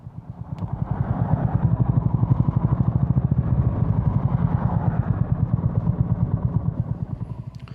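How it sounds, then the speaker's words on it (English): Honda GB350 motorcycle cruising along a road near Oswestry, its steady single-cylinder thump loud and continuous throughout, with a rhythmic pulsing beat and no talk over it. "I'm not the fastest bike on the road, but quite happy poddling along here, just taking in the sights"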